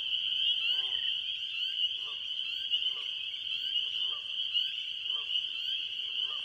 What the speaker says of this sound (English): I am live at the marsh at the frog pond, and we are listening to our spring singers.